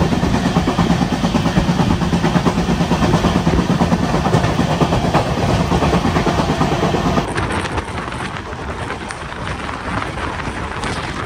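A Garib Rath express on the Visakhapatnam to Secunderabad route rolling slowly along the tracks, its steady, loud rumble filling the whole stretch and dropping a little in level and brightness toward the end.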